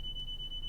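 Steady high electronic alarm tone from a train's vigilance system in a UK train simulator game, running continuously and moderately loud with a faint low rumble beneath.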